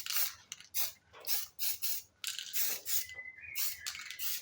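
Aerosol spray paint hissing in short, quiet bursts while satin black paint and primer are applied to 3D-printed gauge pods for a Holden Monaro build. No voices are present.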